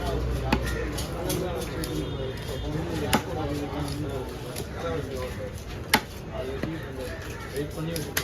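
A knife cuts through a large seer fish (sheela) at a fish stall, with sharp chopping strikes at irregular intervals. A steady background hum and bustle run under them, and people talk nearby.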